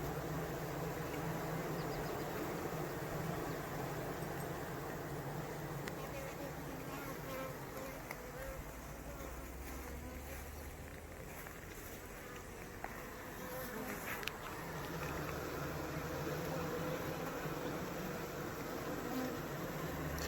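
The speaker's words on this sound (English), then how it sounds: "the bees are piled up against this, fanning air back into the box to keep it cooler" Honeybees crowded at a closed hive box entrance, fanning air into the box, a continuous close droning buzz that holds steady with a few faint clicks and a soft voice underneath.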